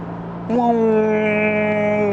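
A 2021 Kia Sorento 2.5T with an eight-speed wet dual-clutch gearbox downshifts, the engine note jumping abruptly and holding as a loud, steady harmonic drone heard from the cabin.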